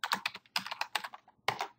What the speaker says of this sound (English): so Ctrl-Shift-C on the keyboard